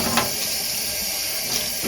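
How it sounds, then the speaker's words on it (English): Cool tap water running steadily from a faucet into a sink while dyed tie-dye fabric is rinsed, a continuous loud splashing rush with no talking. "So now I'm just going to rinse this out with some tap water. Just cool tap water."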